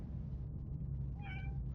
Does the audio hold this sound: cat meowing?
yes